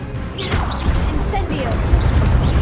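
Magical whooshes and thuds of spell combat in Hogwarts Legacy, a steady loud low rumble with scattered sharp accents, as a voice speaks over it.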